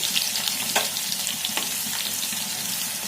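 Cumin seeds and crushed garlic sizzling in hot oil as a tempering for kudumulu, a loud continuous crackling fry up close with a couple of sharp pops, no talking.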